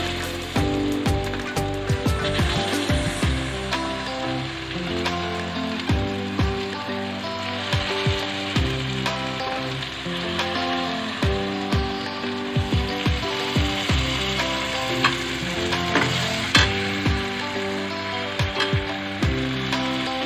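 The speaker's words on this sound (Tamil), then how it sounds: "எல்லா கத்திரிக்காயையும் நம்ம அதில் சேர்த்து நம்ம வதக்கணும்" Steady crackling and sizzling of eggplant sautéing in oil, with irregular clicks and pops throughout, close and continuous.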